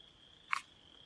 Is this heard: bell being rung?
no